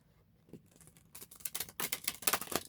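A deck of tarot cards being shuffled up close, starting as soft sparse riffles and building into louder, rapid papery crackling bursts with no talking.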